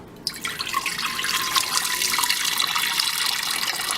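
Liquid jasmine extract splashes and trickles steadily into a pot, a close, continuous pouring sound after a brief start.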